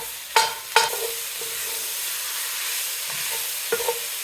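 A pound of ground pork fries and sizzles steadily in a pan for a bean soup while a utensil breaks it up, with a few sharp scrapes and clanks against the pan over the constant hiss.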